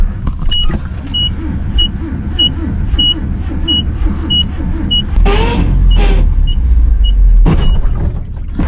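Old free truck rescued from a field, its engine idling roughly with a rumbling chug, then revving loudly a couple of times as a steady chime beeps in the cab.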